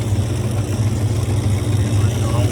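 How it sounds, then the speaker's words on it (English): Steady motor hum of the pump on a Stoelting soft-serve machine, pushing sanitizer out of the barrel with mix, running continuously at a loud, even level with a low droning tone throughout. "Pump on."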